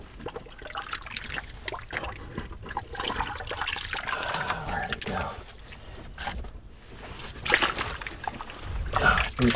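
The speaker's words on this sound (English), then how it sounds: "It's about to fill with the water." Water seeps into a freshly dug hole in a field above an underground structure, with quiet, irregular trickling, dripping and small splashes that grow slightly busier toward the end.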